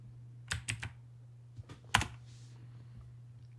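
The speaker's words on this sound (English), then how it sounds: "With my clickety-clackety keyboard" A clicky computer keyboard taps out a few short bursts of keystrokes, close and fairly crisp, separated by quiet pauses over a low steady hum.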